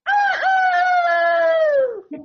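A man imitates a rooster crowing, a single long, loud crow held for about two seconds with no other sound around it.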